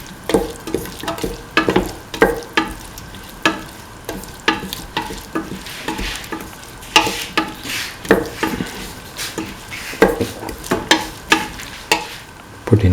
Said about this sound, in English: Mix the cauliflower pieces with the rest of the mixture thoroughly till they are nicely mixed.